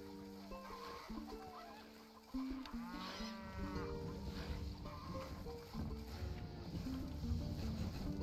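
Cows lowing on a farm in Stronghold Definitive Edition, several drawn-out moos overlapping with game music and ambient clucking of fowl, all at a steady, moderate level.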